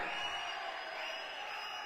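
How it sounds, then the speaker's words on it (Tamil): Audience applause and whistling at a film pre-release event, a dense, steady wash of clapping and cheering crowd noise heard from a distance. "உங்களுடைய இந்த கைத்தட்டல் விசில்"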